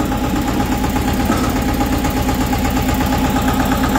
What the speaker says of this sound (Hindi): ट्रैक्टर स्टार्ट हो गया है अपना